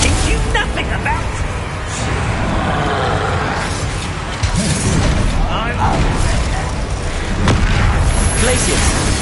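Bombarda blasting spell in the Hogwarts Legacy video game, heavy booms and crashes within a busy battle soundscape, with voices talking throughout.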